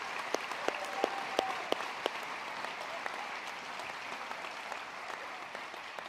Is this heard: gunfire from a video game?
no